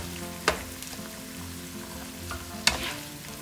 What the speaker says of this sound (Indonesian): Dihancur-hancurin tunanya, terus ditumis deh sampai jadi